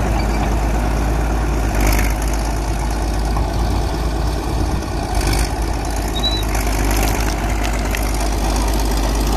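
A 1950s Caterpillar D-8 bulldozer runs steadily while clearing hay ground, its deep, heavy diesel drone close and constant throughout with no talk.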